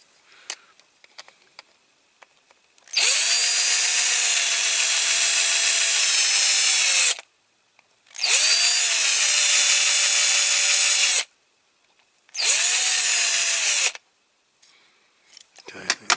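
A power drill whines in three long bursts separated by short pauses, drilling out a rivet on a Corgi Toys Massey Ferguson 165 model, loud and high-pitched, with faint clicks and handling noises between.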